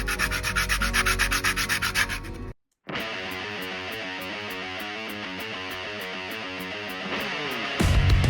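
Small cut wooden piece for a model of the ship Santísima Trinidad being sanded along its edges, a steady close rasping rub broken by a brief pause, then resuming in even back-and-forth strokes.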